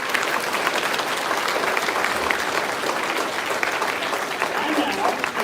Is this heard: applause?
yes